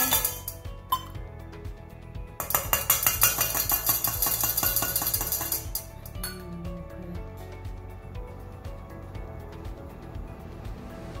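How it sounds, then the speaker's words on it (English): Flour and other cake ingredients go into a big mixing bowl, producing clinks and light clatter against the bowl with a steady, busy stretch of scraping and tapping in the middle, close and moderately loud. "put in the five ingredients in the bowl. So, going to put flour,"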